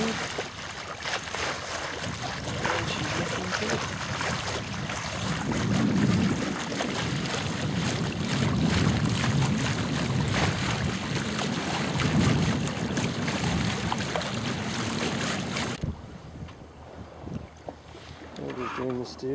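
Boat under way at about 4.5 knots on the Solent, with continuous wind and water rush, hull slaps and microphone buffeting, and voices speaking over it before the noise eases near the end.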